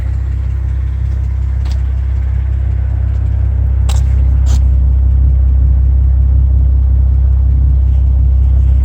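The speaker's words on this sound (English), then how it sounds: "the car, as you can see, is running, and it's been running for a while" A Ford Mustang engine runs steadily at a low, even rumble for the whole stretch, loud and close, outside a hotel, with a couple of faint clicks and no talking.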